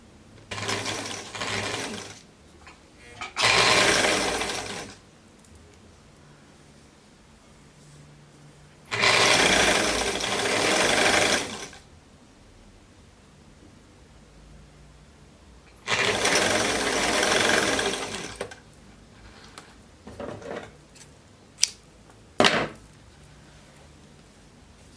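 A sewing machine stitches a folded seam on a raglan-sleeve garment in three close bursts of a few seconds each, followed by several short stitching spurts separated by quiet pauses.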